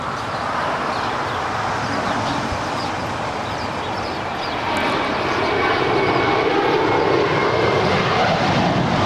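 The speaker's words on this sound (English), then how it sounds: "This is American 184 departing to JFK. It's an A321." An American Airlines Airbus A321 departing Los Angeles International Airport, a broad steady jet engine roar that swells louder partway through, heard from a distance with no talking.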